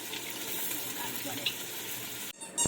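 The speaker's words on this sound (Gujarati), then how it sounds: "ભાઈ શાક સમારે રહી, શાક વઘારે રહી" Chopped vegetables tempered in hot oil in a home kitchen pan, a steady, soft hiss of frying that runs unbroken before a sharp clink and brief stir near the end.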